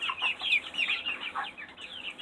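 Barred rock chicken clucking up close, a quick run of soft, bubbly clucks in short bursts with no talking.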